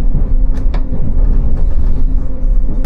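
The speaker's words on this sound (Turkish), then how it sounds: "Banliyö trenleri" A suburban commuter train near Paris rolls on with a loud, steady rumble heard from inside, with a few brief squeals and rattles over the continuous noise.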